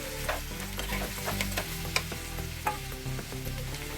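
Washed flattened rice (chuda) hits a hot pan and is stirred, giving a steady sizzle with scraping spoon strokes and occasional sharp clinks against the metal.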